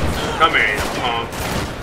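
A burst of gunfire in GTA 5, a busy spray of shots under city ambience with a voice talking over it, moderately loud and not sharply separated.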